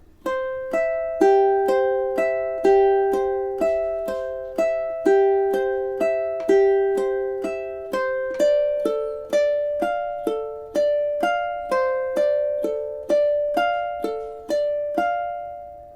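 A solo ukulele plays the opening two measures of Bach's Prelude in C as evenly plucked, ringing broken chords. The notes are clear and close, each fading before the next pluck, with no talking.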